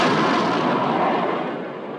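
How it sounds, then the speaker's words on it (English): A single heavy blast from a WWII warship's naval guns roars in a broad, dense burst that slowly fades over two seconds, loud and close with no voices. "Open fire. Fire! Open fire. Shoot!"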